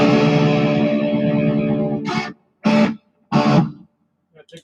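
Electric guitar played through Vox effects pedals with reverb, a sustained distorted chord ringing out, then three short loud strums separated by gaps, followed by faint plucks.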